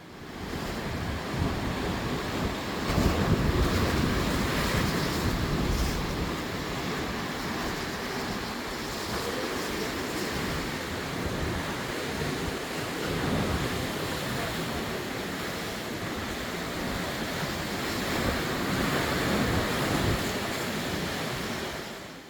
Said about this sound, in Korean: 연금정은 날씨가 좋고 파도가 셀 때 보는 게 제일 멋진 것 같아요.